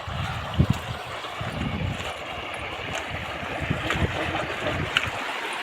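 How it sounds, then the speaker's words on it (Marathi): Flowing river water on a farm, a steady broadband rush held close to the microphone throughout, with wind buffeting the mic and a few low thumps near the start. "तर बघा हे नदीचं पाणी आहे, वाहतं पाणी आहे"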